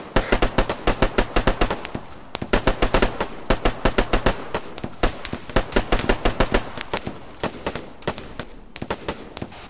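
Sustained bursts of automatic gunfire in the military shooter Arma 3, loud, rapid and close, with repeated volleys and brief pauses running throughout.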